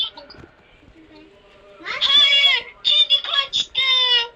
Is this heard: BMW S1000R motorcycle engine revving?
no